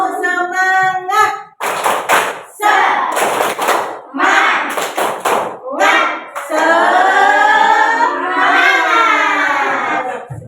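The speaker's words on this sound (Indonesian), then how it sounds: "Lagi. Tepuk semangat." A group of students, urged to stand, performs the rhythmic Indonesian 'tepuk semangat' spirit clap in a classroom: loud patterned bursts of clapping in short clusters, mixed with chanting voices, followed by a sustained group shout or sung call.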